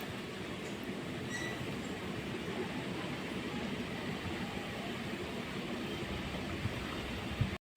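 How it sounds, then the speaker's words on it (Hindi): Strong wind blowing outdoors just before heavy rain, a steady, dense roar that holds at an even level throughout with no voices, then cuts off abruptly at the end. "हवा आवाज कैसी आ रही है?"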